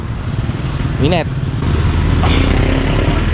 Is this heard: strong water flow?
no